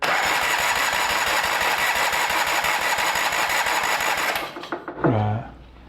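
A Yamaha 9.9 outboard engine cranks over with its spark plugs out and the throttle held open, giving a steady rapid chugging whir for about four seconds before it spins down and stops.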